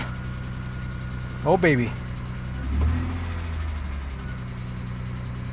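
Car engine that sat almost ten years idles roughly with a steady low rumble, while someone speaks briefly over it.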